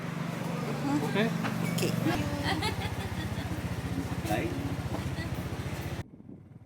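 A motorcycle carries riders through green countryside around Ninh Binh, Vietnam, its engine a steady near putter with a pulsing low beat that cuts out near the end, with voices present over it.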